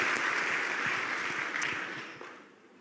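Warm applause from a church congregation fills the hall, dense and even at first, then thinning and fading away toward the end.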